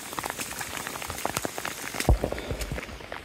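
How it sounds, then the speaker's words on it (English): Heavy rain pours steadily on the Appalachian Trail, a dense hiss of drops hitting the ground and nearby surfaces, with one louder close thump near the end and no talking. "Sometimes it rains so hard it rained upside down."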